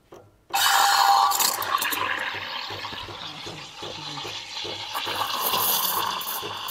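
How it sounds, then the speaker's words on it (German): An Ascaso Dream PID espresso machine purges condensation water from its steam wand, a loud, steady gushing hiss of water and steam that starts abruptly after a brief pause and runs on continuously, with no talk. "Jetzt hole ich erstmal ganz kurz das Kondenswasser raus."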